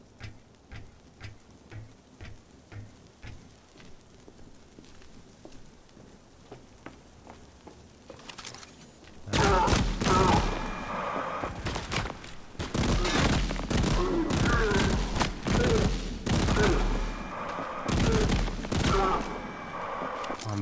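A heavy tank gun fires in the sci-fi shooter ADACA, opening with sparse ticking clicks before loud, booming repeated blasts and chaotic combat noise erupt and continue densely to the end.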